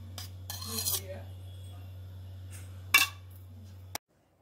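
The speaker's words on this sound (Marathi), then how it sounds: "त्याच्यात मी 1 चमचा तूप टाकत आहे." A spoon clinks against a pot while ghee is added to hot dal dhokli, with a cluster of metallic scrapes early on and a sharper clink later over a low steady hum.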